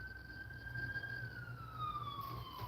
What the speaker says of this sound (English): So you hear the ambulances go by a lot.